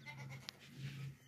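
A fat, healthy pregnant goat at a livestock sale gives two drawn-out bleats separated by a short pause, close and fairly quiet, with no talk over them.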